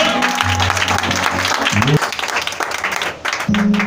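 Church congregation applauding and cheering during a service, a dense continuous wash of clapping and voices with brief musical tones underneath, loud and steady throughout.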